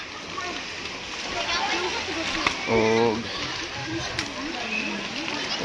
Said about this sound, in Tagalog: Napailahang dolphin nga gatubod ang tubig.